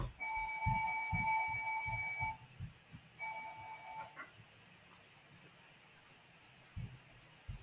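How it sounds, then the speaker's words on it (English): An alarm clock rings in two bursts of high, rapid beeping, separated by a short pause, with low thumps underneath and quiet afterward. "that's my alarm going off."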